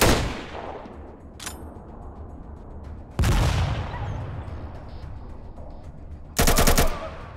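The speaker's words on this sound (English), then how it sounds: "Well, that was a really nasty grenade throw." Combat in the ATOM RPG video game: a burst of loud gunfire at the start, then a heavy booming explosion that decays slowly, and a final short rattling volley near the end.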